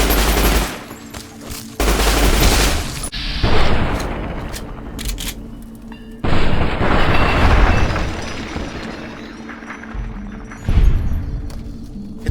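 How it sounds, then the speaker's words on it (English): Tommy gun fire in Fallout: New Vegas, the Zion setting, crackling in loud sustained automatic bursts with short pauses between them and booming impacts, close and dominant, with no talking. "For close-up fighting, I can also use this Tommy gun, like the ones the Whitelegs use."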